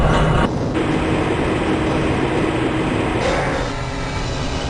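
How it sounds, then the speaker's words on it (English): Transit train in the video game Half-Life: Blue Shift rolling through the Black Mesa facility gives a loud, continuous rumbling roar with a faint clatter, shifting in tone partway through as it moves along. "This train is inbound from the Area 8 topside dormitories to the Central Transit Hub in Area 9."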